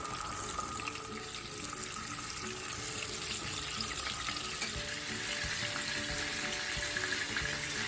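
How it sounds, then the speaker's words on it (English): Fish fries in hot oil, a steady close sizzle and crackle running without pause, with faint background hiss and occasional clatter in a home kitchen. "We'll fry the remaining fish also the same way."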